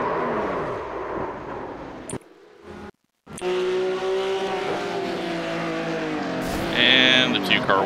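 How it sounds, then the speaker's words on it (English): Fixed-setup Porsche Cup race cars at Charlotte Roval in iRacing roar past with engine whine and a squealing skid, one brief sharp cut to silence, while someone commentates over the racing. "And the 2 car wipes out the 24."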